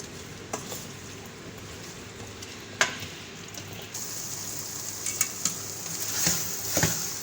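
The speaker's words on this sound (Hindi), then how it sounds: "अब मैं इसमें आलू शामिल कर दूँगी और मसाले के साथ इसको भून लूँगी थोड़ा सा" Potatoes fry with spice masala in oil for aloo band gobhi sabzi, a continuous low sizzle punctuated by sharp spoon taps and scrapes that grow busier toward the end, with no speech.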